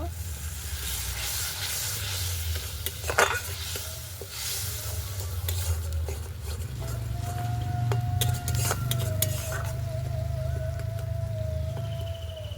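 Masala cooking in a pan for a Bengali rohu fish curry with brinjal, a steady sizzle and hiss after a little water goes in, with occasional clinks and stirring sounds throughout.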